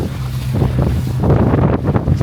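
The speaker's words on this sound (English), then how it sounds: "It's a bit windy." Strong wind buffets the microphone on the deck of a cruise ship in Ha Long Bay, loud gusty rumbling that swells and surges throughout the short stretch, with no voices heard.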